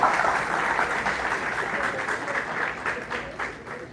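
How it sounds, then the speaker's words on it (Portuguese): A church congregation breaks into sustained applause, a dense wash of clapping from many hands that rises at first and then slowly thins, with indistinct voices mixed in. "Dá uma salva de palmas para Jesus."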